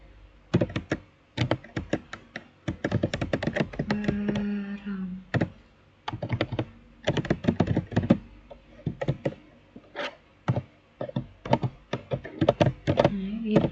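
Fast bursts of clattering computer keyboard keystrokes come in irregular runs, broken by short pauses and a heavier thunk now and then, with a voice talking quietly under the typing in places.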